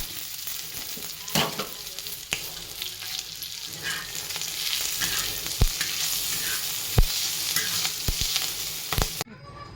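Garlic, green chilli, curry leaves and cumin sputter in hot oil for a home-style Kannada saaru, making a dense, continuous sizzle up close, punctuated by a few sharp knocks of stirring.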